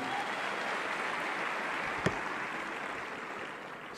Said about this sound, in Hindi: एक बार जोरदार तालियां मेरे बड़े भैया के लिए